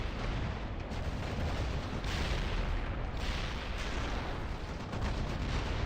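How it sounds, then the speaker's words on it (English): Video game artillery barrage, a continuous dense roar of overlapping distant explosions and rumbling impacts with surges around each second, with no pauses between blasts. "Artillery barrage."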